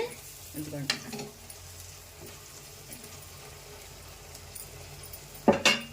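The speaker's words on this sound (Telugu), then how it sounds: "ఈ ఆయిల్లో కాస్త ఫ్రై చేసుకోవాలి. ఉల్లిపాయ అయితే మగ్గిందండి బాగా." Onions frying in oil in a pan give a soft, steady sizzle, broken by a few clinks of stirring near the start and a louder scrape close to the end.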